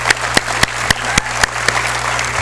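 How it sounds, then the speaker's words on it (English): At a college awards gathering honoring football academic all-stars, applause runs beneath a series of sharp, evenly spaced loud claps, roughly one every quarter second, over a constant low hum. "So please give them a round of applause"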